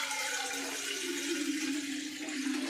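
Water pours steadily from a small vessel into a puttu steamer pot, a continuous close splashing gush with a rising fill tone that holds for the full few seconds.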